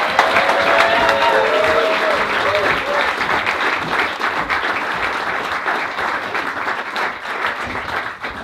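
A crowd applauds and cheers to welcome a politician at a Dundee East election campaign launch, loud continuous clapping rolling through the hall, with some voices mixed into the din.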